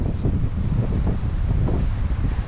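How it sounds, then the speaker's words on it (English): Steady gusting wind buffets the microphone with a low, rough roar throughout, loud and continuous with no other clear sounds. "Hope you can hear me because it is quite windy."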